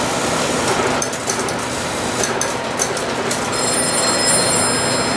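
A telephone on a panel-switch test setup rings after being dialed, a continuous buzzy bell ringing close and fairly loud, steady for several seconds with no talk.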